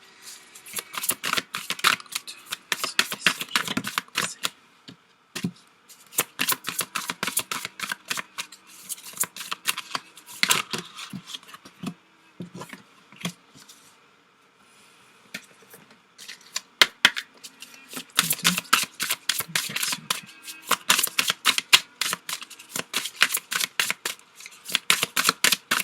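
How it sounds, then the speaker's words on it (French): Oracle cards are shuffled and drawn in repeated bursts of crisp riffling and flicking, with short pauses between rounds, close and clear with no talking. "Je vais vous tirer des cartes là, puis des cartes des animaux fantastiques."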